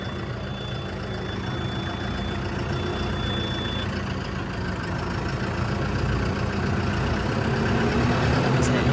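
A tractor used for clearing manure on an Italian buffalo dairy farm runs with a steady, loud, low engine rumble, continuous and close, with no speech over it.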